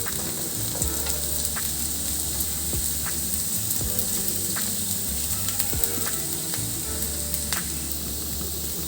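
Chopped capsicum, cabbage and other vegetables for a Maggi samosa filling stir-fry in a hot pan, giving a steady close sizzle broken by repeated scraping and clinking of the spatula as the mix is tossed.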